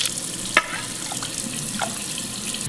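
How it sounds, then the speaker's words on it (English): Hot tap water runs steadily over quinoa in a strainer at a kitchen sink, a continuous hissing stream with a couple of small clinks and splashes, close and moderately loud, no voices. "We're just going to pour it into a strainer and run it under hot water for about 2 minutes."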